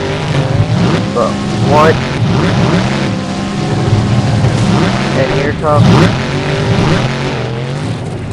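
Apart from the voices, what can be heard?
monster trucks racing in a time attack tournament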